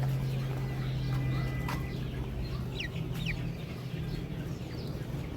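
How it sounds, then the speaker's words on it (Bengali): Chickens on a small poultry farm, a few scattered soft clucks and short calls over a steady low hum, with no talk. "দুইটা মুরগি আছে"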